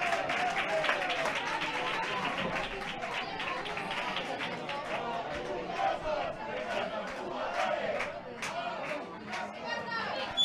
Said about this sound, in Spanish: Aplaudiendo ahora la afición del Rayo a sus jugadores.